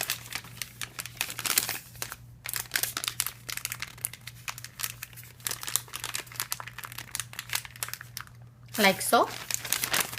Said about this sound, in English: now we will put in this nozzle into our piping bag.